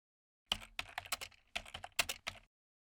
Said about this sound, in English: Type ZigZag3 in the search bar.